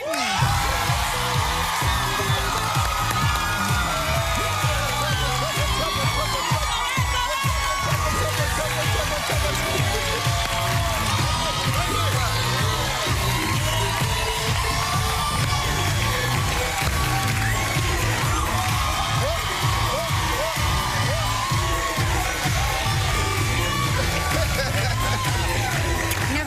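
A studio audience at a live daytime talk show roars, whoops and claps steadily for Ricky Martin's entrance, a loud unbroken wall of cheering and applause.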